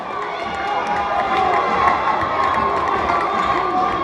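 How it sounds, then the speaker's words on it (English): A high school basketball crowd at a Lynn Classical vs Swampscott game keeps up a dense, steady roar of shouting and jeering, with sneakers running on the court mixed in beneath the noise. "the Swampscott crowd letting Hill hear it a little bit"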